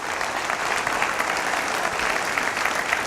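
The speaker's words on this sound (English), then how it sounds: "Would you give them a round of applause and thanks for being here." A room full of people applauds steadily, a dense wash of clapping that stays even throughout.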